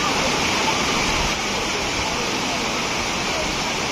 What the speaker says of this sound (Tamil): குற்றால அருவி இன்று தண்ணி நல்லா ஆர்ப்பரித்து கொட்டுகிறது.